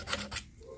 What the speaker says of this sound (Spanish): raspar un poco el resistol que ya tenía pegado